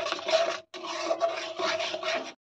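Spices are sautéed and stirred in a pan for a Bengali milk-and-pointed-gourd curry, making three rough scraping bursts with short gaps between them, close and fairly loud, with no voice.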